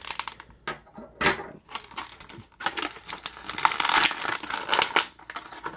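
Scissors snip and a rubber band rustles off a Star Wars Saga Collection Hem Dazon action figure, with close crinkly plastic handling and small clicks scattered through a few seconds.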